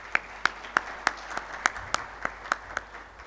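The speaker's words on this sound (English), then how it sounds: "I think that calls for a warm round of applause to welcome yourselves." A small audience at a two-day summit gives a brief, sparse round of welcome applause, about a dozen distinct claps in an uneven rhythm, fairly soft and spaced out rather than a full ovation.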